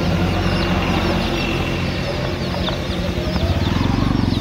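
Hungry turkey chicks in a basket at a market peck at grain, a dense stream of chirps and cheeps with a quick run of close tapping near the end, all loud and unbroken.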